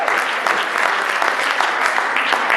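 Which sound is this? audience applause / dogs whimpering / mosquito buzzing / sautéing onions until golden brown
audience applause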